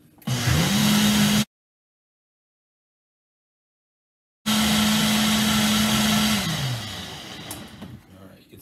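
A Nutri Ninja blender pureeing curried butternut squash soup with chilies whirs loudly in two bursts of steady motor hum, separated by a stretch of silence, and fades as the second burst winds down.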